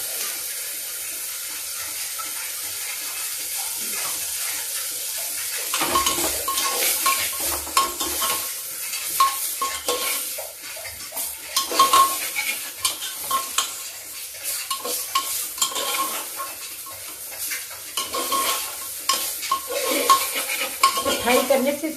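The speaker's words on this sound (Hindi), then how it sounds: "इसको थोड़ा फ्राई कर देते हैं।" Urad dal frying in ghee in a pan over a low flame, a steady soft sizzle with a spoon stirring and scraping now and then, the frying growing louder and busier after the first few seconds.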